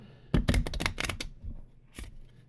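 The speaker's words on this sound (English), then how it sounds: "And they do riffle a little bit better back." Carbon fiber and Kevlar playing cards riffle shuffled, a quick burst of sharp flapping clicks followed by a second shorter riffle, close and crisp with no talk.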